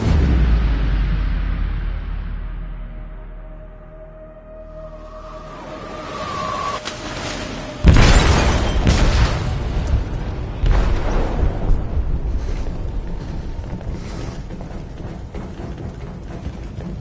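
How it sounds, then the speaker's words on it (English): Explosion in a ship's hold in the video game Detroit Become Human: a rumbling low drone gives way to a sudden loud blast, followed by crashing debris, metallic clanks and a lingering roar. "They detonated an explosive in the hold."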